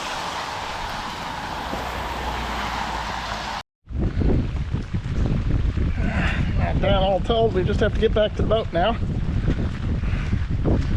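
Strong gusty wind of a thunderstorm buffeting the microphone on a boat, broken by a brief cut, then someone talks over continuing wind and water noise.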